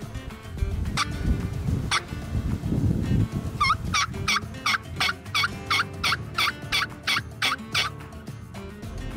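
Wild turkey toms gobble repeatedly in a rapid run of rattling calls, clear and fairly close, over a steady low rumble of wind or distant noise, at a field in Wisconsin.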